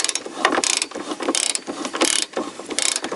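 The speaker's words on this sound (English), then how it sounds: "and now I am opening these bolts" Ratcheting wrench clicking in repeated bursts while loosening exhaust bolts on a 1992–2002 Toyota Camry; quick mechanical clicks, close and fairly loud, with no talking.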